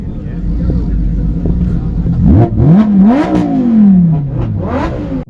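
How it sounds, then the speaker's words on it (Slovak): Two purple Lamborghini sports cars rev their engines hard, with repeated rising and falling roaring sweeps over a loud rumbling idle, close by and overlapping. "Tam túrovali ich dve Lamborghini."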